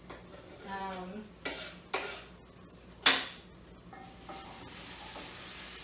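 Ginger and onions are stirred in hot oil, giving a low sizzle under a few metal spoon scrapes and knocks against the pot, one loud clatter in the middle, heard up close with no speech.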